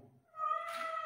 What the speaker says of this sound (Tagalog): May na mga pusa.